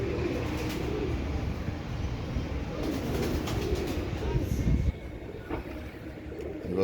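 A Ferozepuri pigeon hen coos softly amid a noisy background hum, with low murmuring cooing sounds and occasional faint clicks.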